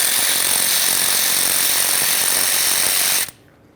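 A ratchet spins out the single 8mm bolt on the brake flex hose bracket of a 1999-2006 Chevrolet Silverado, making a close, loud, continuous buzzing whir for about three seconds before cutting off abruptly.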